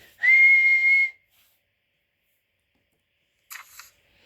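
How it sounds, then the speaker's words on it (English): A train guard's single sharp, shrill whistle blast holds steady for about a second, followed after a pause by a few brief, faint clicks. "The guard blew his whistle to signal that the train was ready to leave."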